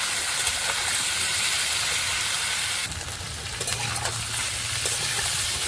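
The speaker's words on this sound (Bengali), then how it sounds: "কচুটা খুব ভালো করে ভেজে নেব" Taro pieces fry in a pan with salt and turmeric, giving a steady close sizzle and hiss with occasional scraping stir strokes, continuous and alone without talk.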